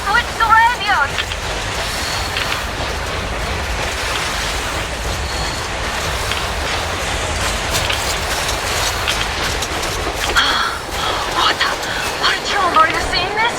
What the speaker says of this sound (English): Now that's what I call a blizzard!